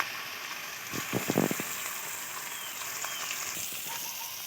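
Chopped tomato, turmeric and ground spices sauté in a pan for a Bengali egg and potato curry. The soft sizzle is broken by a brief louder burst of spattering near the start.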